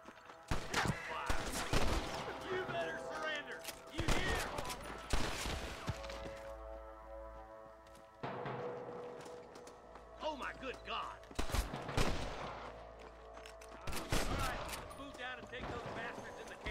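Bursts of gunfire ring out in the Western video game Red Dead Redemption, with clustered volleys of sharp shots separated by brief lulls, heard over in-game music and ambience.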